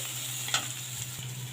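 Hot red chili tadka hits besan-yogurt kadhi in the pot, giving a faint, steady sizzle with one brief sharper burst near the start, with no talking.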